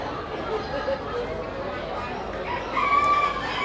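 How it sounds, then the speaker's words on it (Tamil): A Leghorn chicken crows and clucks amid a noisy show yard full of other poultry sounds, with people talking underneath. "அதுக்கு உண்மையான பேர் வந்து லெக் ஹோன் இது வந்து கோழி"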